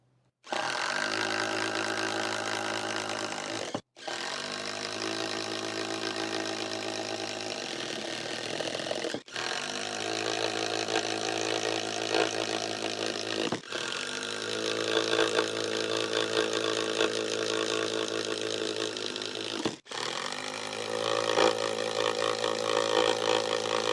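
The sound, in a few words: Hyper Tough 12 volt drill boring paddle bit holes in plywood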